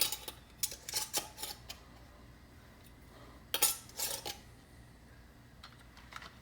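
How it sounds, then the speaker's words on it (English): Metal rings being hand-tightened onto canning jars of potatoes, a series of quiet close clinks and scrapes in short clusters, with a pause in the middle. "just hand tighten the rings"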